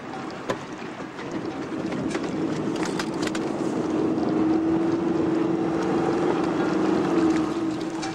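A boat travels along the coast with a steady rush of wind and water and a low droning hum that rises and holds, loud and continuous throughout with no voices.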